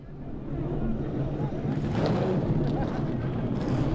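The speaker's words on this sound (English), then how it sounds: "Drivers, start your engines." Several race car engines fire up and rumble at the Cadillac Sports Car Challenge, Pirelli World Challenge, at Circuit of the Americas, a deep layered roar building over the clip from moderately loud to full, with no talk.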